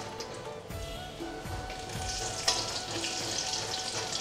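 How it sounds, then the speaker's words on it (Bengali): Whole cumin seeds drop into hot oil in a pan where eggs were just fried for an egg curry. A soft, steady crackling sizzle swells after a moment, with one brief sharp spike. "এবার তেলে আমি দিয়ে দিচ্ছি গোটা জিরে"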